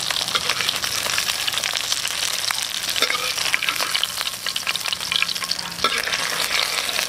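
Espada fish fries in hot oil, giving a loud, continuous sizzle with crackling and popping throughout and occasional stirring or handling noises close by.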